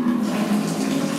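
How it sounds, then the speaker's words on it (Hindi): Hot water runs from a tap fed by a newly installed geyser, making a steady, close rushing splash that continues unbroken with no talk. "तो अब जो है मैं यहाँ से ऑन कर लेता हूँ और देखते हैं कि हमारा जो पानी है वो कितना गर्म आ रहा है।"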